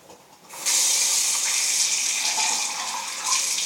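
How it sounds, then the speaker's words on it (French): Hot water gushes from a tap into a sink to wash a salad bowl, a steady, loud, close hissing stream that starts abruptly after a brief quiet moment and runs on alone. "je vais mettre dans l'eau chaude."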